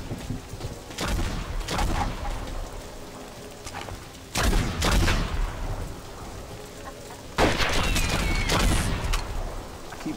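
Gunfire in Red Dead Redemption, with several loud bursts of shots crackling over a steady background rumble, clustered near the start, middle and end.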